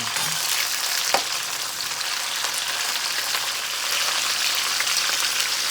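Vegetables for a chicken stir fry sizzle and crackle steadily in a hot pan, a dense, close frying hiss with one brief clack of a utensil and no talk.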